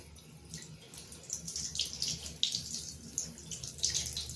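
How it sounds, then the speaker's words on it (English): Cold water runs steadily from a tap, rinsing watercolour ink off, a continuous splashing hiss with small surges, close by and with no voices. "So we're just going to carry on with some cold water."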